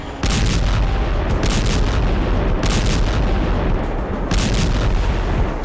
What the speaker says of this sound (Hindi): यही वजह है कि यूक्रेन की जमीन पर धमाके हो रहे हैं।